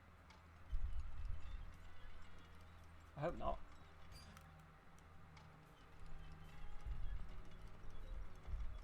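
Footsteps thud in Deathloop as a few soft, low, irregular steps that come and go under game ambience, with a brief spoken line partway through.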